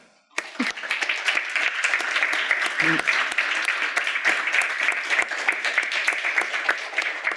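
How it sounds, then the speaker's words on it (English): Sustained audience applause at a college newsmakers event, starting abruptly after a brief pause and holding steady and fairly loud throughout, with a few louder claps standing out. "please join me now in thanking Anne for being here and applauding her for her guts."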